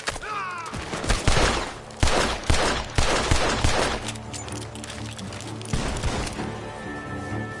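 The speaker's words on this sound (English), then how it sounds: "Gunshots are coming from that barn!" Gunfire from a barn in Red Dead Redemption 2, a sequence of sharp, loud shots in irregular bursts, some close together, followed by a quieter stretch with rumbling background game sound and one more shot near the end.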